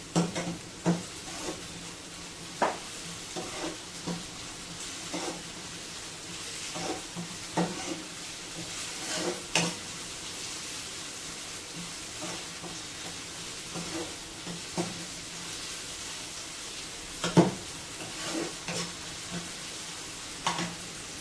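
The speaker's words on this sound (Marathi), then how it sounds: "थोडासा मटार आणि गाजरला मी वाफवून घेतला होता. त्याला थोडंसं सॉटे करते." Steamed peas and carrots sauté in a pan with a steady sizzle, punctuated by repeated spoon scrapes and stirring knocks.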